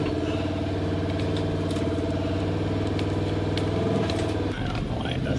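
A vehicle idles steadily in reverse gear while hooked to barbed wire to stretch it on a farm fence, a continuous low engine rumble close by with a brief dip near the end.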